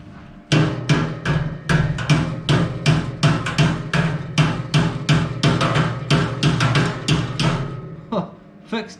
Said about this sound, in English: Some awkward hammering